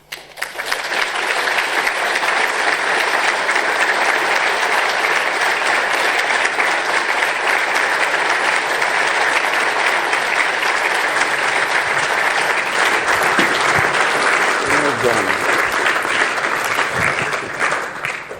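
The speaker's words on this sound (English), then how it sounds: "A wonderful round of applause and fully deserved." A large lecture audience claps loudly and continuously, a dense wash of applause that swells in quickly and holds steady before tapering at the end.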